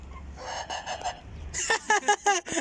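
A rooster crows nearby in a series of strained, rising and falling calls, following a stretch of quieter background noise.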